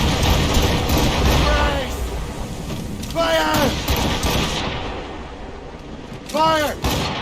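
Ship cannons boom during a naval battle in the video game Assassin's Creed Rogue, a heavy rumbling barrage with crew voices shouting over the dense, loud gunfire.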